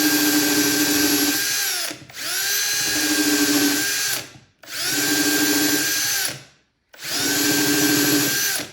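A power drill turns a tapered reamer in four loud, close bursts of steady whirring, each about two seconds long and separated by brief silent pauses.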